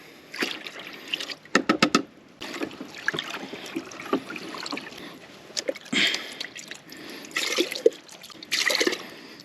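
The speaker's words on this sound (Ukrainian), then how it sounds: "Так, а тепер по черзі все змішуємо. Перше даємо сипучі мікроелементи." Spray solution for tomatoes is poured into a tank and mixed, giving irregular splashing, gurgling and sloshing close by, with a few sharp clattering knocks between pours.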